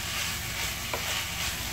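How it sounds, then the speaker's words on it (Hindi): Green olives and vegetables are stirred and tossed in a hot cooking pan, with a steady broadband sizzle and a brief scrape of the spoon partway through. "इसको अच्छे तरीके से मिक्स कर लेते हैं"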